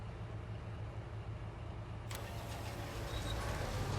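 A road train truck engine in Farming Simulator 19 cranks and catches, then settles into a steady low rumble that grows slightly louder and rougher as it idles, with no one talking.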